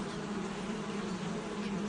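Honeybees buzz around a few backyard hives up close, a dense, steady droning hum that holds evenly for the whole stretch with no voices.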